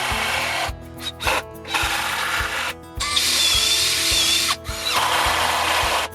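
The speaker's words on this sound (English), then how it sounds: "I'm always drilling a pilot hole before I insert the screws." A power drill bores pilot holes into heavy timber retaining-wall posts, whirring in repeated close bursts with short pauses between them.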